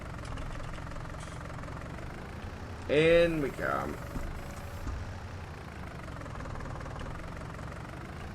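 A tractor engine in Farming Simulator 19 drones steadily at low pitch throughout, idling and working, while someone speaks briefly over it partway through.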